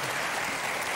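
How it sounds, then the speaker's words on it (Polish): Applause fills a brief moment on a quiz game show, with a dense and steady clapping from the audience. "Brawa dla wszystkich."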